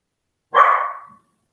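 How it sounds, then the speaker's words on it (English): A single sharp dog bark, close and loud, ringing out briefly against silence. "She barks if she sees anybody on the street."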